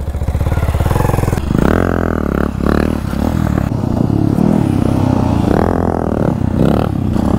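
During wheelie practice, a nearby motorcycle's throttle is blipped again and again, the engine pitch climbing and easing in loud repeated surges with a few short breaks between them.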